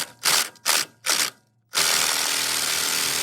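Three short ratcheting bursts loosen the strut top bolts on a 2000–2006 Toyota Tundra during a leveling kit install. The clicks are close and crisp, with pauses between them. A louder, steady mechanical whir follows and runs to the end.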